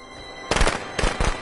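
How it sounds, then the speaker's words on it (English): Firecrackers go off in Friday the 13th: The Game, three sharp bursts of crackling pops in quick succession, loud and close. "Oh, firecrackers as well."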